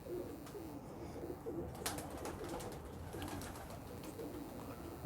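Shaheen breed pigeons cooing softly in a low, steady murmur against continuous background noise, with a few brief higher chirps and rustles scattered through.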